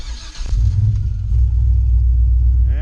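The red truck's engine rumbles as it pulls away and keeps a deep, steady drone while driving, loud and close, after a brief clunk at the start.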